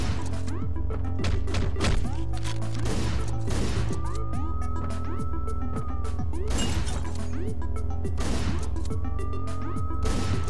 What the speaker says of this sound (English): Guess we'll just go with the shotgun.